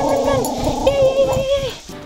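Puppies playing outside, thin high whimpering yips over a constant background, with a person talking throughout.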